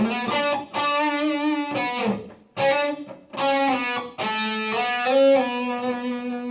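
A distorted electric guitar plays the intro melody of a song, gliding smoothly between notes without picking in several short phrases, with no voices.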